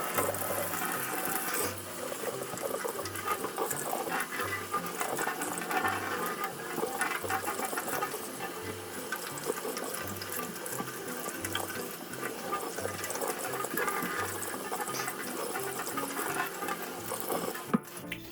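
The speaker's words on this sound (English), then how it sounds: "you want to use cold water for this. You want to rinse these until the water runs clear" Cold tap water rinsing grated potatoes, a continuous splashing flow with faint rhythmic low thumps beneath, steady and close.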